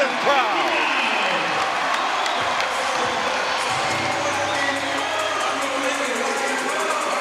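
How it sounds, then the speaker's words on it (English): A dense arena crowd cheers and roars continuously at a 2017 ABL Finals basketball game between the Singapore Slingers and Hong Kong Eastern, with whoops and shouts rising from the noise and a commentator's voice heard over it. "And listen to this crowd."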